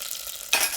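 Brief quiet crackle, then a sudden sharp sizzle flares up as asafoetida is added to hot oil with cumin near the end.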